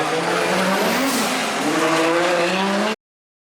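A BMW E46 race car fitted with a 2JZ engine roars past at full power during street-circuit qualifying, a loud, continuous engine howl with rising harmonics, a hint of tire squeal, then an abrupt cutoff.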